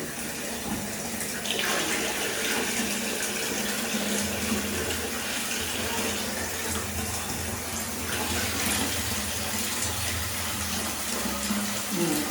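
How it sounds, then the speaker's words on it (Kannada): Hot water is poured into a vessel to bathe a newborn during a ninth-day post-birth ceremony at home: a steady, close gushing splash that runs almost unbroken, with faint voices in the background. "ಬಿಸಿ ತಗೊಂಡಿದ್ದೀನಿ, ಇದರೊಳಗೆ ಶಾಖದ್ದು ನೀರು"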